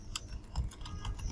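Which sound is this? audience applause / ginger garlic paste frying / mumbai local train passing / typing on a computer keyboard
typing on a computer keyboard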